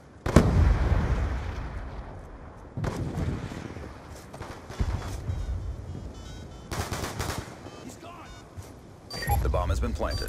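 A frag grenade goes off in Call of Duty Black Ops 2 during a Search and Destroy match on the Plaza map. It lands as a sharp, close blast, and bursts of gunfire and more booms follow amid in-game voices.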